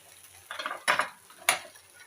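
Sabudana and potato patties fry in a pan and are turned with a spatula, giving two sharp, close scraping clatters over a soft, low sizzle, with no talking.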